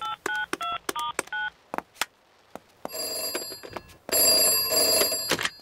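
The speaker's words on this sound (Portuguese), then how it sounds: "Vamos ligar para ela." Cartoon telephone in a Peppa Pig episode: a rapid series of touch-tone dialing beeps, a few clicks, then a bright ringing bell in two bursts, clear and close with no talk.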